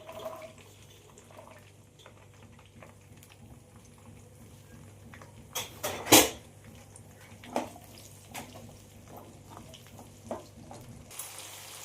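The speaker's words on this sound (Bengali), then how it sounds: "গোয়ার আর বটবটি কলাইটা আমার ভাজা হয়ে গেছে" Cluster beans and broad beans fry in a pan with a low, steady bubbling sizzle and a few sharp scrapes or clatters near the middle, close and without talk.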